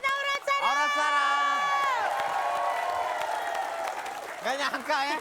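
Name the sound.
studio audience applause and cheering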